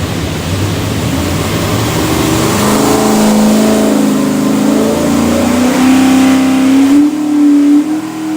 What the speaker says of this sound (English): We're gonna make a run, see if she does.